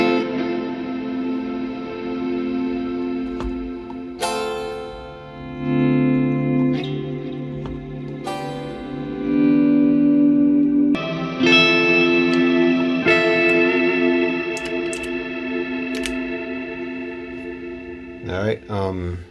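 Electric guitar through reverb and delay pedals, sustained chords ringing out with long washy echoes, loud and close, changing chords every few seconds.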